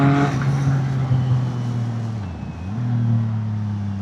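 A CF Moto 675NK motorcycle ridden slowly, its engine droning steadily at low revs with a brief dip in pitch as the throttle eases off, then picking back up, heard close and alone.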